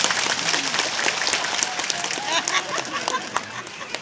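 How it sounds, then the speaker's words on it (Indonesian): Congregation at an Indonesian religious lecture clapping together, a steady wash of applause that runs throughout with voices mixed in underneath. "Tepuk tangan dulu dong"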